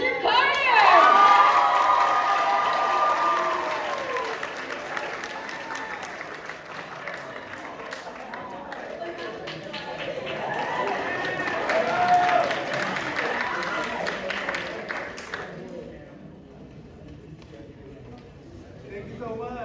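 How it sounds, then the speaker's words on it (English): A theater audience roars with applause, cheering and shrill shouts after a school drama club's staging of 12 Angry Men, saluting the director Mr. Kadia; dense and loud at first, then easing to sustained clapping before cutting off, with voices mixed in. "a very, very special round of applause for our amazing, amazing director, Mr. Kadia"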